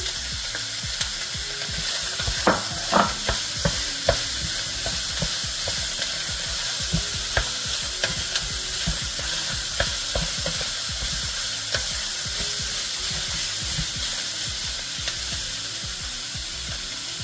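Green peppers and onion with seasoning sizzle in a pan alongside cooked meat, a loud continuous frying hiss broken by repeated sharp scrapes and knocks of a stirring utensil, close up and without speech.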